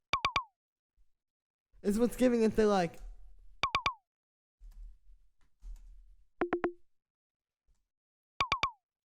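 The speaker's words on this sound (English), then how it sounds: "simple little zap sound that I made using FM" Short FM synth zaps built in Ableton Operator from two sine waves through a pitch envelope drop sharply in pitch, firing in quick pairs and triplets between stretches of a voice talking.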